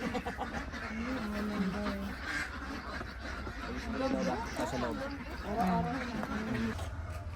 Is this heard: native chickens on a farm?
yes